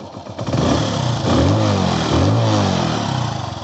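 Hero Passion Pro 110cc motorcycle engine idling steadily up close after 25,000 km, a continuous even mechanical hum with no audible knocking throughout.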